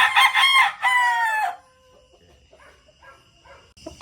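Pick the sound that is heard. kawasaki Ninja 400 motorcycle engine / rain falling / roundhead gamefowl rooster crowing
roundhead gamefowl rooster crowing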